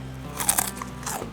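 A bite into crispy dry fried chicken cuanki: a close, sharp crunch with crackling bursts, followed by a quieter second crunch and soft chewing, with no talking.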